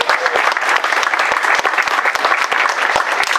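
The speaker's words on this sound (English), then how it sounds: "You all deserve a great round of applause." Close, dense audience applause from a room of people at a university geology research day, steady throughout with crisp individual claps.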